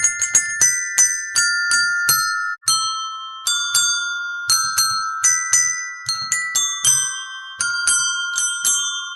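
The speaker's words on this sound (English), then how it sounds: "Let's see if we can actually play something on these bells." Several desk bells struck in a quick melodic sequence, each bright metallic ding ringing on and overlapping the next, close and clear with no talking.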